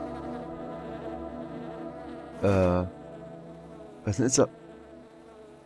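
Fly buzzing close by in two short bursts, one longer drone followed by a quicker wavering flurry, amid background room noise and a brief spoken question.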